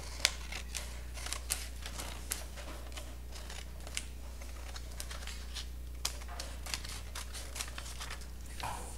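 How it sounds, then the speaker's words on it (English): Paper being snipped with scissors, a series of crisp irregular cuts close by over a steady low electrical hum. "you get your scissors, and you cut across the line"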